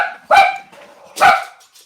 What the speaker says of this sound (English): Oh, I thought that was my dog.